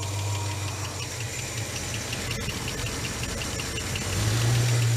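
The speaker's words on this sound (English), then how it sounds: "it's definitely a lifter noise from cold startup" A boat engine idles on a cold start with lifter noise, a steady close rumble carrying a fast, even ticking knock that continues throughout and swells slightly near the end, with no voices.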